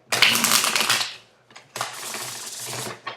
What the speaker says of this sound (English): We shuffle a little bit more, then we're going to pull some cards